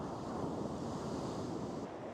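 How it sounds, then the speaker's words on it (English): Surf breaks continuously on a stormy beach in Shetland while strong wind buffets the microphone, a dense, loud roar of waves and gusts with no voices. "Stormy weather."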